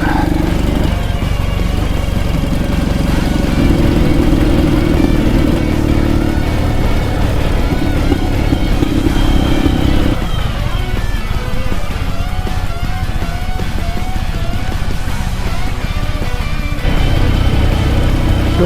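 A Ural motorcycle engine runs in cold, frosty weather, a steady loud mid-pitched drone with shifting revs and wind rush throughout, no talk over it.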